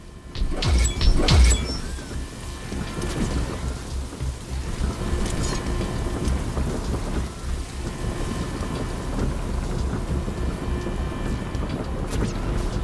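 Steady rain pours with thunder rolling and cracking in a sci-fi survival base-building game, loud crashes early on then a continuous wash of rainfall with distant rumbles, no talking.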